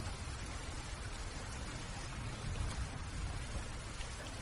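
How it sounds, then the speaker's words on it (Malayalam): Heavy rain pours down in a dense, continuous hiss and patter, steady and enveloping throughout, with no talk. "ഷോ, എന്തൊരു മഴയാ ഇത്."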